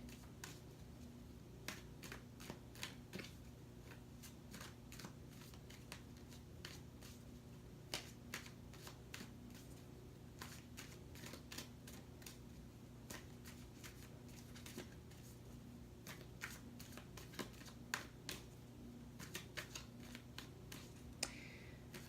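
Tarot cards shuffled and drawn during a general reading, a steady run of soft papery riffles and crisp flicks over a constant low hum, close and quiet with no talking.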